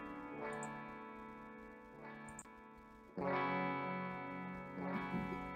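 Sustained clean electric guitar chords through a Mesa clean amp tone, ringing out with echoing delay repeats and a wash of reverb, new chords struck roughly every couple of seconds.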